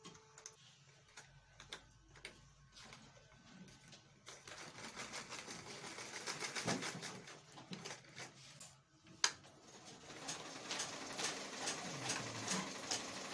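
A sewing machine stitches a trouser pocket in bursts of rapid mechanical ticking, quiet at first, then running in longer, busier runs with a sharp clack partway through.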